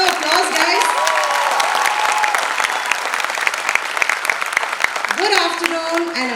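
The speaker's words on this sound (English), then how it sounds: "Have a louder round of applause, guys." A crowd at a 73rd Republic Day celebration applauds in a dense, steady wash of clapping that holds for several seconds, with faint voices and brief tonal calls rising through it near the start and end.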